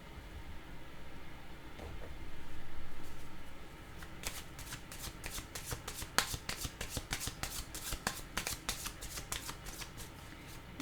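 Tarot cards shuffled close up, opening with a quiet rustle that gives way to a long run of rapid, crisp flutters and riffles against faint background hiss.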